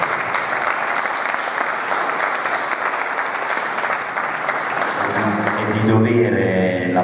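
Steady, loud applause from an indoor crowd at a gymnastics studio presentation in Fondi, swelling slightly near the end as a voice starts speaking over it.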